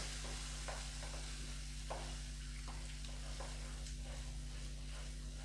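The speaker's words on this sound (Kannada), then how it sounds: "1 ಬೌಲಷ್ಟು ತೊಗೊಂಡಿದ್ದೆ ಮಶ್ರೂಮು, ಅದನ್ನು ಹಾಕಿ ಇದರೊಳಗೆ ಫ್ರೈ ಮಾಡ್ಕೊಂಬಿಡೋಣ" Mushrooms fry in a pan for a mushroom pepper masala, a steady sizzle with soft scraping stirs at irregular intervals over a constant low hum.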